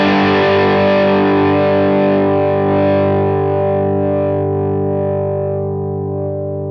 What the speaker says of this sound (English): let me hear the Helix